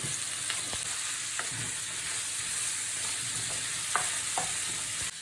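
Carrots added to a hot pan for a Lancashire hotpot, sizzling and frying continuously with scattered clicks and scrapes of stirring, close and fairly loud with no talking.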